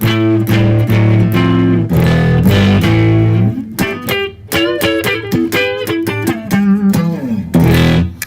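Electric guitar on the neck pickup in middle position, from a Gibson Les Paul versus Yamaha SBG comparison, played alone with ringing sustained chords at first, then choppier single notes and short bends, fairly loud and close.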